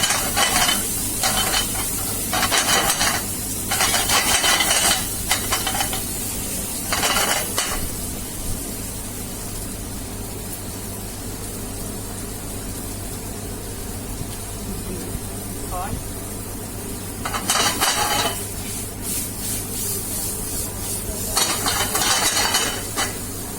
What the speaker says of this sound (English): Nice stir